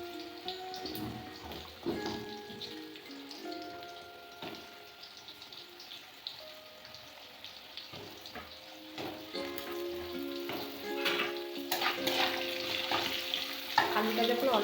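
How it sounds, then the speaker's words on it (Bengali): Potato pieces frying in hot oil with five-spice in a home kitchen pan, a soft continuous sizzle with occasional stirring scrapes and clinks, fairly faint throughout. "তারপরে আলুটা আগে ভেজে নেব"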